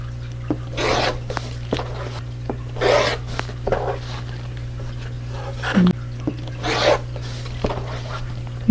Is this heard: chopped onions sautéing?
no